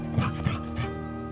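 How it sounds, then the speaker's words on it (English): A pet dog in the video game Risen gives a few short yips or barks in quick succession, close and moderately loud over a continuous game background. "Here is where Henrik ended up with his pet doggy."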